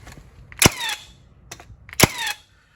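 Milwaukee Gen 2 brad nailer fired in single-shot mode, giving two sharp, close mechanical snaps about a second and a half apart, each followed by a brief whirring reset.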